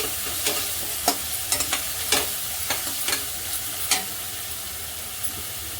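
Chopped onion sautéing in an oiled pan over a raised gas flame for shev tomato bhaji: a steady hiss of frying with scattered sharp clicks and knocks from stirring, close and moderately loud, no voices.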